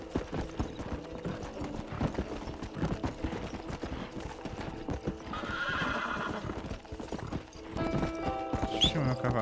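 In the Red Dead Redemption video game, a horse's hooves clip-clop in a steady, quick rhythm for the whole stretch, and a loud neigh breaks in near the end. A voice talks briefly over part of it.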